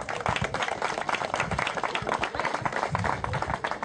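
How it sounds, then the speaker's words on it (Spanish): An audience at a government public works handover claps in dense, steady applause from many hands throughout, nearby and fairly loud. "Por favor, un aplauso, compañeros."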